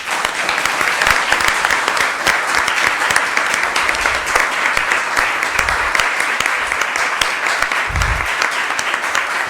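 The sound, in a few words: audience applause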